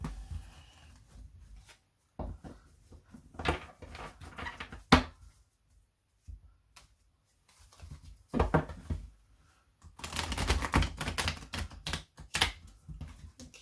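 Tarot cards being shuffled up close, coming in quick papery bursts with short pauses between them, and a longer, denser run of riffling near the end.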